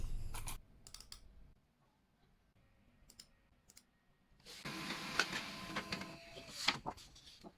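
A printer prints a leather keyholder pattern: clicks and mechanical whirring, then a louder, sustained feed noise near the end.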